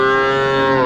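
A cow at a cattle market in Vaniyambadi gives a single loud, close, sustained moo, heard alone.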